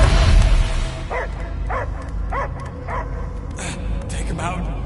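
A dog barks in a rapid series of about five or six sharp barks over a loud, rumbling background with dramatic film sound, near and fairly prominent.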